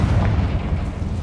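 A Confringo fire-blast spell in Hogwarts Legacy goes off as a loud, deep rumbling boom that rolls on briefly without a clear tail.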